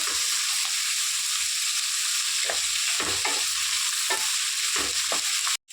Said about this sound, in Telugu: మనం ఆయిల్లో ఫ్రై చేసుకుంటాం